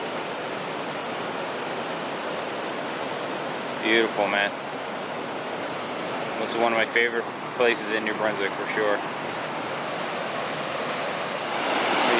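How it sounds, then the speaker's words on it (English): Crooked Creek Falls, a waterfall in New Brunswick, roars as a steady, loud broadband rush of falling water throughout, with someone speaking over it in short bursts. "So yes, this is Crooked Creek Falls."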